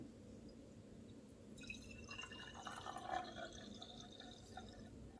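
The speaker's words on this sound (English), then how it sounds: "Then I put a small vase, pour water," Water trickles and splashes softly into a small vase, a faint continuous pour with bright glassy dripping that swells midway, quiet and close with no talking.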